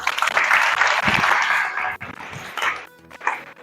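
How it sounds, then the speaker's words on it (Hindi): Audience clapping at a student motivational talk, a burst of applause that thins and fades within a few seconds, with some scattered claps near the end. "चलिए इनके लिए तालियां होनी चाहिए"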